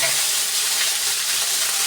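Hand-ground spice paste from a stone slab hits fried fish in a hot pan, raising a loud, dense, steady sizzle and hiss that fills the whole moment.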